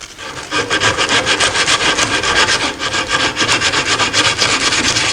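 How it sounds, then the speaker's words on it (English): Sandpaper of 120 grit rubs back and forth along the edge of a small oak rocking chair during restoration, a loud, close, rhythmic rasp of fast strokes with no pauses. "this 120 grit sandpaper"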